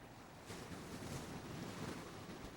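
Sea surf breaking along the coast at Crescent City, where redwood forest meets the Pacific, heard as a steady broadband wash that swells after the first half second, with some wind noise and no voices.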